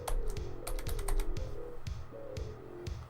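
Computer keyboard keys are typed in quick bursts and single presses, the clicks close and clear over a steady low hum from a new desktop computer, with no talking.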